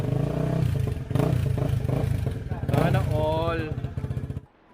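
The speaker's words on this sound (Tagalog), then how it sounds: "Sakto lang yung tunog, di ba?" A motorcycle engine fitted with a new muffler runs steadily with a throbbing, mid-loud exhaust note that rises briefly near the end before cutting off, with a voice talking over it.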